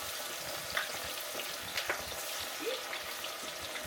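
Chicken wings frying in hot grease for a copycat Wing Stop hot wing recipe give a steady, fairly quiet sizzle with a few brief pops and crackles, and no talking.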